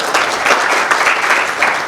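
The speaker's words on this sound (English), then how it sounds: "Let's start with a round of applause" Applause from an audience at a business summit in Hyderabad, a steady dense patter of clapping that stays loud and even for the whole stretch, with no talk over it.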